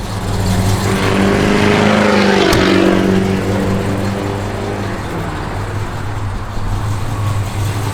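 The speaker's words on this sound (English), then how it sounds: "Blower motor works." Steady whooshing hum of a 1968 Pontiac Beaumont's heater blower running loud and constant, with a brief click partway through and a low engine drone underneath.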